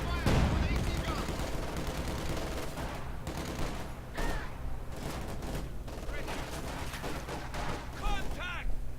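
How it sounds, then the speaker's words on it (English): Dense, continuous gunfire and explosions from anti-tank guns and infantry weapons in the Company of Heroes 2 strategy video game, rapid overlapping shots with booms throughout, while commentators talk over the battle. "We're taking fire with AT guns."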